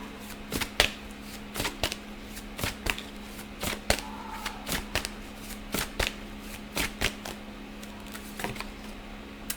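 Tarot cards are shuffled by hand in quick, crisp bursts, a dozen or so sharp riffles and slaps spaced unevenly over a faint background hum, close and clear, with no talking.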